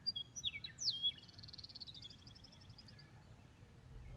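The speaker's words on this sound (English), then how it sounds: "It's Nebraska's state bird. It's the meadowlark." A meadowlark sings a series of bright, clear whistled notes followed by a fluttering trill, heard alone over a low outdoor rumble.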